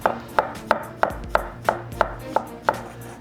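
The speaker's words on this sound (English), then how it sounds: "So with the cabbage, I'm starting with it shredded thinly so that I can just do that cross cut" Knife chopping crosswise through thinly shredded cabbage on a cutting board for gyoza filling, eight crisp, evenly spaced chops at a steady rhythm, close and fairly loud, with no talking.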